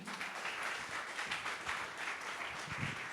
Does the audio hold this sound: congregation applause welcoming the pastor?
yes